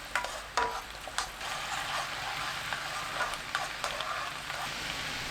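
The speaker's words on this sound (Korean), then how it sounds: "정리한 팬에 양념, 마늘 넣고 센 불로 끓여주세요" Sauce and garlic bubbling hard in a pan over high heat, a steady close sizzle and crackle with a few sharper spits, no talking.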